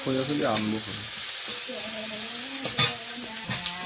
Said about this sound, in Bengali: পাশে তেল দিয়ে গোটা জিরে রসুন কুচি পেঁয়াজ কুচি